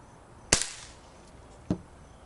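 A vintage Crosman Mark 2 CO2 pistol fires a pellet with one sharp, close crack, followed about a second later by a second, fainter snap, likely the pellet striking. Quiet room otherwise.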